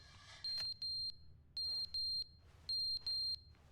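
A smoke detector in a video game chirping from a low battery, three pairs of shrill, loud beeps at regular intervals over a faint low hum.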